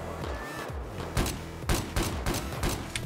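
Battlefield 4 gunfire: bursts of rapid shots crackle over a dense, constant game soundscape, with several louder reports standing out in quick succession.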